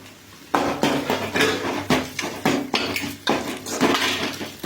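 Egg being stir-fried in a pan, with a steady sizzle under repeated scraping and clanking of a spatula against the metal pan, close and continuous.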